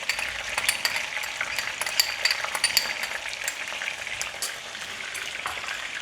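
Ginger garlic paste being stirred in hot oil in a karahi, with a steady close sizzle and frying crackle plus scraping stir strokes throughout, no talking.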